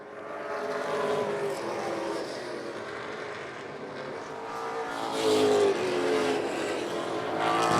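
Stock cars race around a track, including the 84 car, their engines roaring in a dense, continuous drone from mid-distance as the pack passes, swelling louder toward the end.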